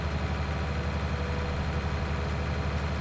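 A Fendt tractor engine runs in a farming video game, giving a steady, low, even drone with no breaks or voices.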